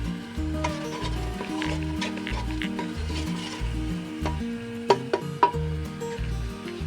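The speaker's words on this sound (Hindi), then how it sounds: "और ये जो है अदरक लहसुन का पेस्ट ये डालती हूँ और इसे भून लेते हैं।" Ginger garlic paste and cumin frying in oil in a pan, a soft continuous sizzle with scraping stirs and a few sharp clicks of a utensil near the end, close, with a low rhythmic hum underneath and no talking.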